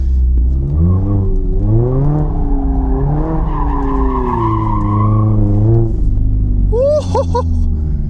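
A Mazda ND3 Miata with traction control off roars close and loud, its exhaust note climbing and falling through hard acceleration. A few sharp tire chirps come near the end.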